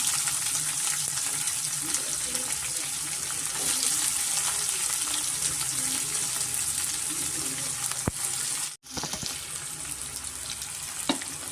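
Chopped onions fry with green chillies in hot oil, giving a dense, steady sizzle that runs throughout. One or two faint clicks come near the end, and there is a brief gap in the sound.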